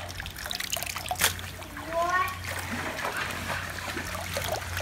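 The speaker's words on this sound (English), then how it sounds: "I might as well just walk in the stream" Shallow stream water trickles and splashes softly as someone wades through it while collecting wild plecos, faint close gurgles and small splatters under a low background hum.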